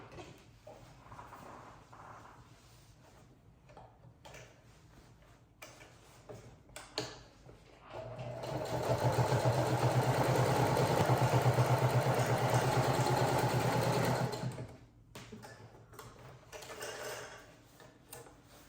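A sewing machine stitches a tote bag in a fast, steady run of closely spaced needle strokes lasting about six seconds, loud and near, framed by quieter handling noises before and after.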